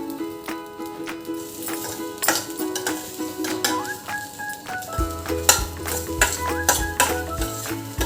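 Semolina and fresh grated coconut roasting in a pan, with repeated scraping and stirring strokes, faint sizzling and occasional clinks of a utensil against the pan, close and steady with no talk.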